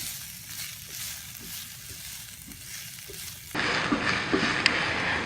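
Onions sizzle steadily in a pan for red coconut curry pad thai, a soft continuous crackle that grows louder and brighter partway through, with a few light clinks of stirring.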